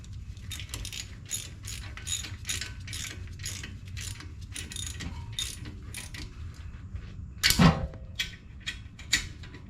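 A ratchet wrench clicks in rapid repeated bursts while torquing the front brake caliper bolts on a 2017 BMW X1, close and loud, with a sharper metallic clank near the end and no talk.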